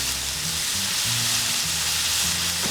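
Beef stroganoff sizzles loudly in a hot pan, a steady bright frying hiss with low scraping thuds as the meat is stirred, close and without talk.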